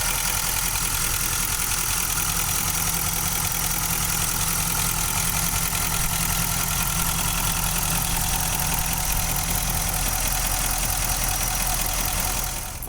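A Nissan Titan XD SL 5.0 pickup engine idles steadily and up close, a continuous even rumble with a faint ticking texture that holds unchanged throughout, no talking over it.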